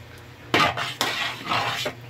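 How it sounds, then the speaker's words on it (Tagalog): A spoon stirs rice porridge in a cooking pot, three scraping, clinking strokes against the metal, close and fairly loud over a quiet background. "Kailangan kasi halu-haluin to guys, kasi pag hindi mo halu-haluin yan, tututong kasi yan."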